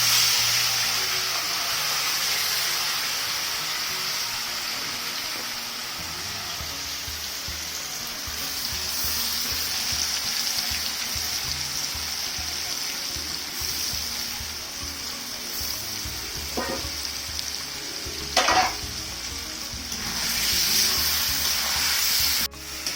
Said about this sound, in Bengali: এখন আমি কড়াইয়ে তেলের মধ্যে দিয়ে দিতেছি।